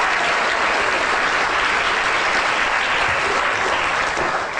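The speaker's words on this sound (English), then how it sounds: "Big round of applause, please." Loud, steady applause from a live show audience as two people are called down from the crowd, a dense, continuous patter of many hands with no letup.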